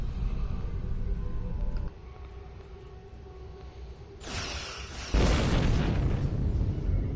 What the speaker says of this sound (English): Target that ship, and fire all weapons!